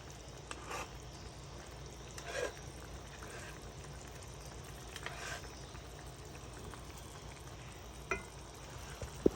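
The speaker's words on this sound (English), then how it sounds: "it's coming back up to a boil" Beef stroganoff sauce heating back up to a boil in a pan, a faint, soft bubbling and low sizzle with a few light clinks of a utensil, quiet and close.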